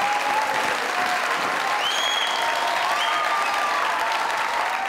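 A studio audience at a comedy show claps in steady, continuous applause from start to finish, fairly even in loudness with no talk over it.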